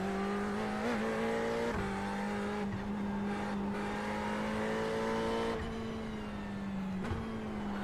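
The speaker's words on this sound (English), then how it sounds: "The Ferrari's honestly really fun to drive." A Ferrari race car driven in the iRacing sim, its engine holding a loud steady tone with repeated quick dips and rises as it shifts and brakes through corners, close and continuous with no talk.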